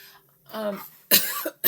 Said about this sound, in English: Coughing is a release of energy.